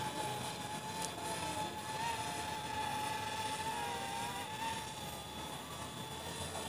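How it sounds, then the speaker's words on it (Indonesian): A DJI Spark drone flies an autopilot waypoint mission outdoors, giving off a steady, thin high-pitched motor whine over a constant airy wash from a distance, with no talking. "Drone bergerak menuju misi pertama."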